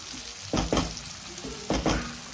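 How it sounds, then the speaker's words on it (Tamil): Something sautés in a pan for a jackfruit curry, a constant close sizzle broken by a few short stirring scrapes in pairs. "நல்லா வதங்கி வைப்போம்."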